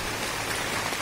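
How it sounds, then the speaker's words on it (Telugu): A heavy downpour falls in a forest, an unbroken, close wash of raindrops striking leaves and earth, loud and even throughout. "వర్షం బాగా ఎక్కువ అయింది"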